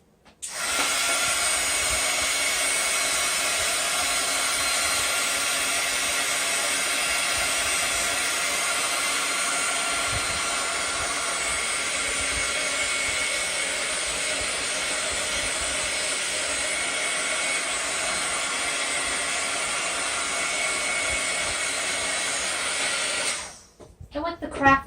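A hair dryer blows a loud, steady, continuous hiss for over twenty seconds to quickly dry craft paint in an art journal, then cuts off at the end.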